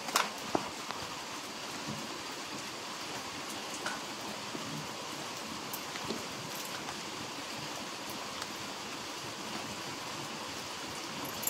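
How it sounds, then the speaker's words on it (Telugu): Steady rain falls around a small market shop, a continuous even hiss with a few brief sharper drop taps scattered through and no voices. "చూడండి, వాన పుటిక్ పుటిక్ పుటిక్ అని పడుతుంది."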